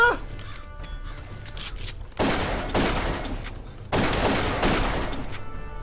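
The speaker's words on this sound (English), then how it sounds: "I don't see who's shooting at me because the map is too big." Gunfire in the video game Darkest of Days: a steady crackle of distant shots gives way to several loud, heavy bursts of rapid firing from many guns, close and overlapping, with little pause between them.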